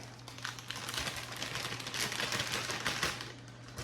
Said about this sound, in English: I'm gonna rip this bag.